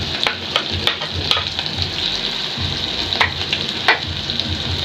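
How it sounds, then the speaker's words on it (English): Garlic hits browning onions in a hot pan for chicken stew, giving a loud, steady sizzle with a few sharp spatula scrapes and pops. "Our onions have started turning brown. So I'm going to add garlic."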